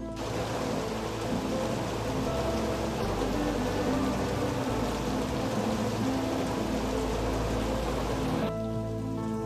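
Steady, heavy rain falls outside, a dense continuous hiss of drops on surfaces that holds evenly for several seconds before thinning slightly near the end.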